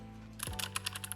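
A mechanical keyboard with a metal casing is typed on in a quick burst of crisp, clicky keystrokes, close and distinct, after a low hum that drops away.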